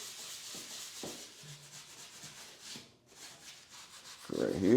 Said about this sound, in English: I'm just scrubbing the top. The baking soda is grinding in right here.